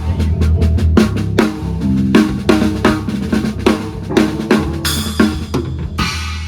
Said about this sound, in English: I'll be teaching you exactly how to tune your snare to sound like this.